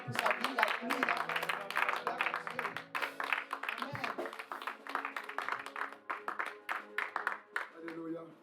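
A church congregation claps and cheers to acclaim an apostle, dense hand-clapping rising and falling in waves for several seconds, with voices calling out over it.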